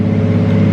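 A Nissan S15 Silvia engine held at wide open throttle on a dyno, a brief, loud, steady droning roar with a strong low hum throughout.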